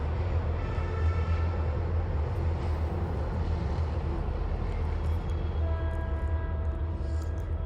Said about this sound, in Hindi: मेट्रो जा रहा है